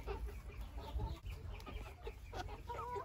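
Chickens and a rooster cluck in a poultry yard on a hot day, scattered short calls near and far over a soft background, with no talk.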